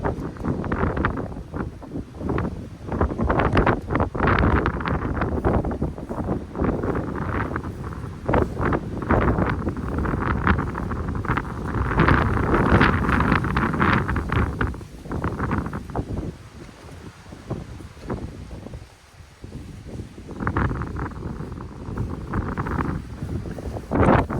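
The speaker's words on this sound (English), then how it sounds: "We have wind now gusting" Strong gusting wind batters a pair of lightweight trekking-pole shelters, a Durston X-Mid Pro 2 and a Double Rainbow Li, with loud continuous roaring, flapping fabric and buffeting on the microphone that swells and eases in waves.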